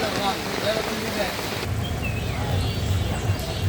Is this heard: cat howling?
no